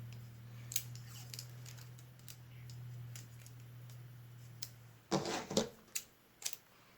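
Tape is pulled and torn while images are taped down onto copy paper, making sharp crackling rips and clicks in irregular bursts, loudest near the end, over a low steady hum.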